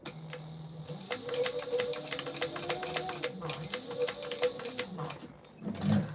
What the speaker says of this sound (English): I'm just stitching, putting it on from the beginning